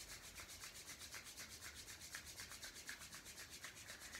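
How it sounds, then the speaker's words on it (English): Palms rubbed briskly together at the start of a Kundalini yoga exercise, a quiet, steady, rapid back-and-forth swishing with an even rhythm and no voice. "So rub your hands together."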